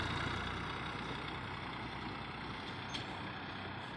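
Trucks idle at a limestone loading site in Jaisalmer, a steady low engine rumble filling the background with a brief faint hiss near the end and no talk.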